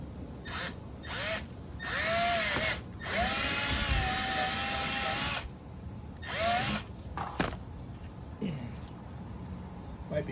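Power drill boring a hole through thick material while fixing a snow flap on a ZRT 600 snowmobile, several loud whining bursts of rising and falling pitch separated by pauses, with faint talk in the background.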